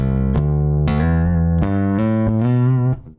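Bass guitar played through a BG250 combo amp with the TubeDrive knob engaged for a crunchy tube tone: about six sustained, gritty notes change in turn, loud and close, then cut off abruptly.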